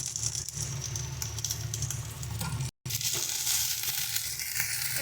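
Turmeric, coriander and chilli powders with salt sautéing in a pan for a vegetarian paneer curry, a continuous close sizzle with light stirring rattles, broken by a brief dropout midway.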